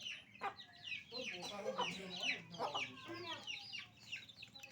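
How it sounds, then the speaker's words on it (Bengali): Several hens cluck and squawk in agitated bursts as they fight, one a hen with seven chicks, overlapping calls rising and falling close by in a village, with no talking. "মুরগি মুরগির যুদ্ধ শুরু হয়ে গেছে"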